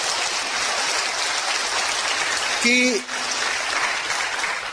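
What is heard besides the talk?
audience applause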